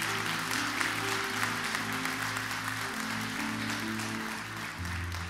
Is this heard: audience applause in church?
yes